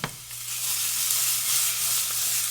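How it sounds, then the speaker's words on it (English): Polynesian fried rice sizzles and caramelizes in a hot pan, a steady, bright hiss of frying that runs throughout at close range, with a low hum beneath it and no talking. "Oh yeah, getting the char on it, the sugar, the caramelizing."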